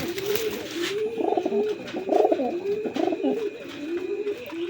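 A male pigeon coos steadily up close, a low rolling repeated call with throaty rises and falls, carrying on for several seconds with faint background noise.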